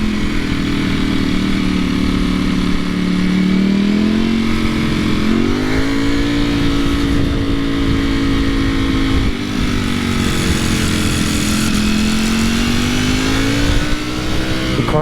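Loud sustained engine roar from a Ducati V4 SP motorcycle being ridden, a steady high-revving drone whose pitch rises and dips with throttle changes, close and continuous with no talk.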